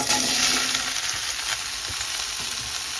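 Vegetables fry in a pan with dried chillies and panch phoron for khichuri, a loud, steady sizzle throughout with occasional stirring scrapes.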